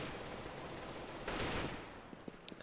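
Rapid gunfire from wall-banging shots fired through walls in a Counter-Strike match, dense bursts of shots that swell midway, then a few sharp separate cracks near the end.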